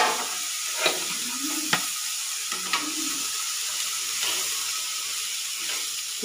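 Peas fry with salt in a pan, giving a soft continuous sizzle with a few sharp spatula taps and scrapes spaced through the stirring, moderately close and without voices.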